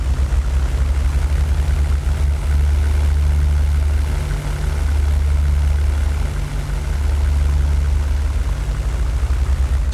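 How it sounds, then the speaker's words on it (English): A single engine of a WWII Luftwaffe aircraft in the flight sim European Air War drones steadily and loudly at low pitch, with a slight pulsing throb and no voices. "Should I try to take off with only one engine working?"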